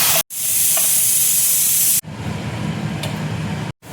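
Hot tempering of whole cumin and garlic hits cooked lentil dal for a sweet-and-sour dal, giving a loud, close, hissing sizzle that cuts off abruptly, then returns as a softer, steadier spitting sizzle.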